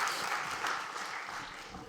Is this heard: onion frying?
no